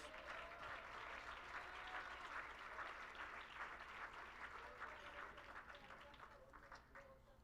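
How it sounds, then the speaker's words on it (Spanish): A church congregation claps together in steady applause, fairly soft and roomy, tapering off gradually near the end with some faint voices underneath. "¿Por qué no le da otro aplauso al Señor Jesús?"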